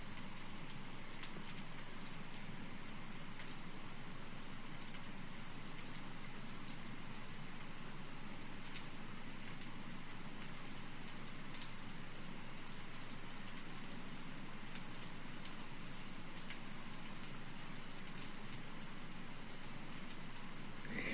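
Steady rain hisses all around at a farm animal sanctuary, with scattered drops tapping nearby surfaces in a constant, moderately faint wash of sound.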